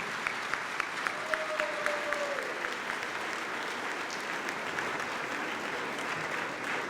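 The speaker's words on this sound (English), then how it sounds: "please stand and acknowledge your parents with a nice round of applause of thank you for all that they did." Sustained applause from a high school graduation audience thanking parents fills the space, steady and dense throughout with a brief faint tone passing underneath.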